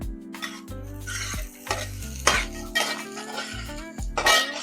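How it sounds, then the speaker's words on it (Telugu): Cumin seeds frying in a pan, a light sizzle broken by spoon stirring and clinks against the pan, close up, with a low steady hum beneath and no talking. "దీంట్లో 1/2 స్పూన్ జీలకర్ర అండి, ఇది కూడా నేను దీంట్లోనే ఫ్రై చేసేస్తున్నాను"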